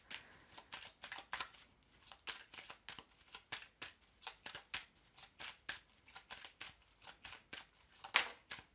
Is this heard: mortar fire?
no